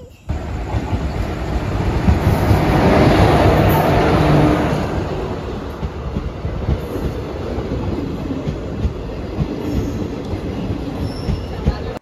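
An Indian Railways express train runs close by at a station, with a loud rolling rumble, rattling carriages and squealing wheels that swell and then settle into a steady clatter over twelve seconds.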